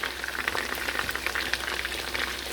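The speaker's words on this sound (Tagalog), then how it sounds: "chili garlic. Fry muna natin siya." Chili garlic fries in hot oil with a soft, steady crackle and sizzle, faint and continuous, with scattered small pops and no voices.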